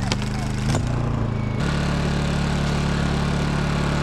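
A drilling rig engine runs at a land survey site with a loud, steady drone, briefly unsettled at first before holding an even idle-like roar, while people talk near the machine.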